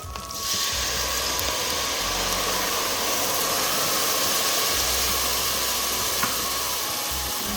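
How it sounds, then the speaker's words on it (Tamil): Tamarind water poured into frying onions and garlic for a ground fish curry sets off a loud, steady hiss and sizzle that runs without a break, with no talk over it. "நான் புளி விடுறேன்"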